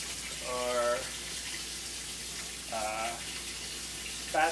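Kitchen tap running while a spatula is rinsed, two short bursts of splashing water standing out against steady background hiss and a third starting at the end, with a voice speaking low in between.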